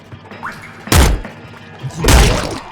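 In the video game Nuclear Throne, a character eats a triple machine gun, producing two heavy, punchy thunks about a second apart, loud and close with soft muffled crunching around them.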